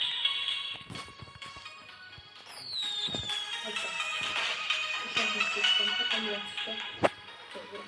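A firework whistles with a descending tone, followed later by a single sharp bang, over a busy background of scattered crackles and murmur.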